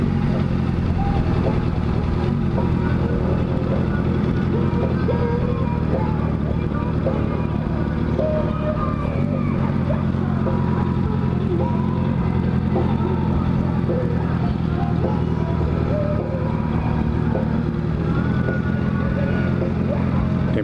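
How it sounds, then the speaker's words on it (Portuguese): Motorcycle engines at a motorcycle meetup in Nazareno, Minas Gerais, including a CBR 650F, give a continuous low idling rumble with passing revs, while people talk throughout. "Tem bastante moto aqui."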